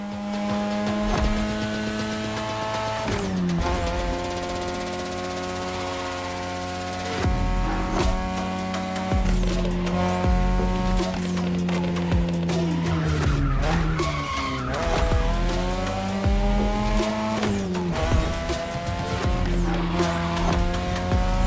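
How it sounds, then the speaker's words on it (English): A third-generation 2002 Mazda RX-7 with a rotary engine races in a video game, its loud engine note climbing and dropping through gear shifts while tires squeal and skid repeatedly. "Tonight your ride is a 3rd Gen 2002 Mazda RX-7. Lightweight, compact, a sick rotary engine, and one hell of a look."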